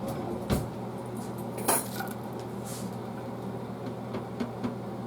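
Forks and dishes gathered for a home dinner, a few close, sharp metallic clinks and clatters scattered over a quiet kitchen background.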